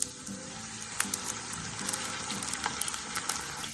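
Sweet potato slices fry in a frying pan with just a little oil, giving a close, steady sizzle with small crackling pops throughout.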